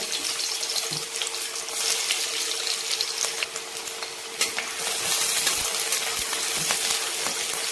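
Half an onion hitting hot oil for a mutton-methi curry, a steady, close sizzle and hiss that swells after a few seconds and keeps crackling on evenly.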